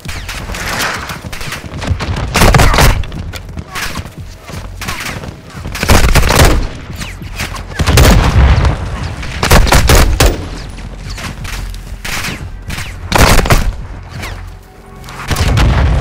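Heavy gunfire from the Call of Duty Modern Warfare 2 campaign: repeated rifle bursts and booming blasts in dense, loud clusters with brief lulls between them, with a few shouted voices mixed in.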